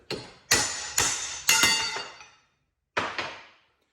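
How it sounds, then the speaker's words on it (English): Five ringing metal clangs from a hammer striking a punch to drive the old carrier bearing off the drive shaft of a Polaris RZR 900 Trail. The first four land about half a second apart and each rings out, then a short pause precedes a final pair. "I'm taking a punch so I don't screw the end of this drive shaft up, going in the center of it"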